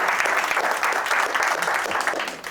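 Audience applause following a speech at a presentation event, a dense steady patter of many hands clapping at close range for a couple of seconds, fading slightly at the end.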